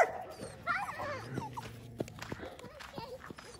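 A dog whimpers and gives short yips close by, with soft footsteps and quiet voices in the background.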